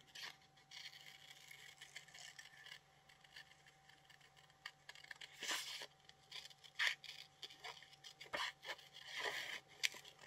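Scissors cutting a woman's figure out of a paper magazine page for a collage, faint intermittent snips and papery scrapes over a low steady hum, close but quiet, with irregular pauses between cuts.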